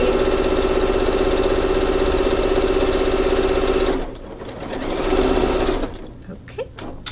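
A sewing machine stitches skirt seams in a steady, close whirring run for about four seconds, then slows and stops while a voice talks faintly nearby.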